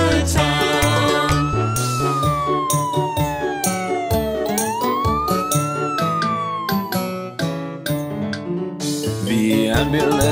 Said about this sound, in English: The ambulance siren goes wee.